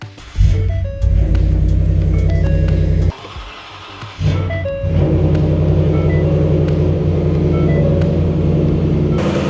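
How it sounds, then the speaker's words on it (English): Truck engine idling steadily right after a jump start from an AUTOONE 4500A jump starter, a loud, close low rumble that dips briefly and then settles into a continuous drone. "The vehicle's running."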